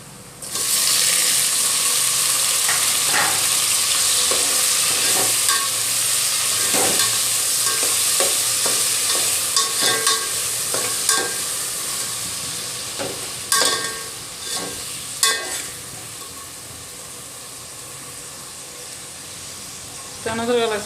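Chopped tomatoes added to onions already browned for several minutes in a pan, for a chicken thali, hiss and sizzle loudly, with repeated clinks and scrapes of stirring that grow sparser toward the end.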